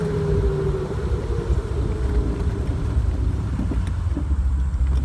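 A 1972 Jaguar E-Type Series III roadster's 7.0-litre V12 hums steadily at low speed while driving around town, its intake drone and engine rumble loud, continuous and close, with no talking.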